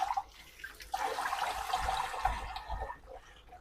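Running water from a tap splashes steadily as a lump of homemade butter is rinsed, a soft continuous hiss with low gurgling swells, fairly close and without any talk.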